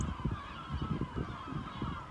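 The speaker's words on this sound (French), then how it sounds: "il y a des mouettes et des corbeaux." Seagulls and crows call outdoors, a busy wash of bird cries that is faint and continuous over a short stretch with no voices.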